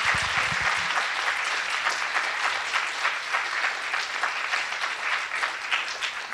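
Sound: audience applause for the scientists

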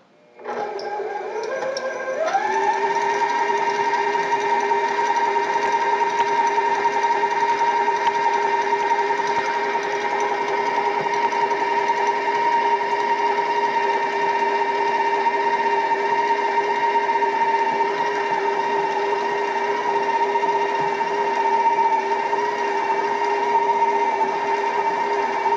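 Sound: stand mixer with paddle attachment creaming butter

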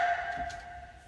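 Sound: deep percussion sample

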